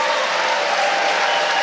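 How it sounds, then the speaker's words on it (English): An audience at an exhibition fight event in Pittsburgh applauds, a dense, loud, continuous wash of clapping with no pauses. "a round of applause for Ian too"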